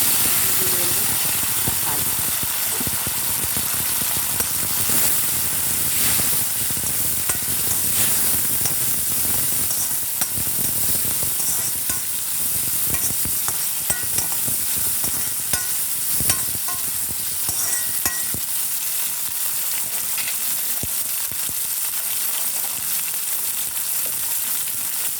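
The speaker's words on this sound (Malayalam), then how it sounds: "തക്കാളി നന്നായിട്ടൊന്ന് വഴറ്റുക." Tomatoes sautéing in ghee for a Kerala tomato moru curry give a steady, dense sizzle and hiss that runs continuously at close range, with occasional stirring scrapes and faint speech underneath.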